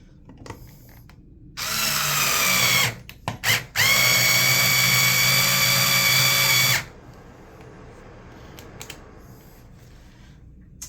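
Screws are driven into a countdown timer switch plate with a power drill in two loud, steady whirring bursts separated by short ratcheting stops, then quiet.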